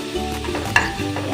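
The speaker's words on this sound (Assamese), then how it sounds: "এতিয়া মই অলপ লৰাই আছোঁ।" A spoon stirs ginger-garlic paste sizzling in a pan while it cooks for a soya chunk and potato curry. The frying hiss is steady and close, with one sharp clink of the spoon against the pan and soft music underneath.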